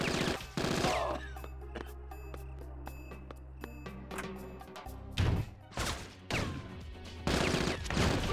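Submachine gun fire in a GameCube video game, with repeated rapid bursts and single shots cutting over game music and sound effects, loud and close.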